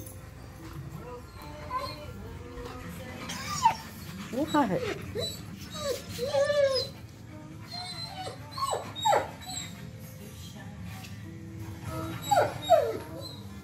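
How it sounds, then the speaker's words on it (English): A husky whines and yips in short bursts, rising and falling, close by, with a person speaking briefly over it. "What's he howling about?"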